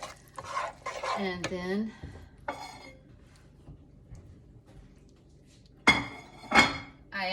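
Pasta salad with brisket being stirred in a bowl, giving soft scraping and clinking of a utensil against the bowl in bursts, with a voice talking briefly near the start and louder clinks toward the end.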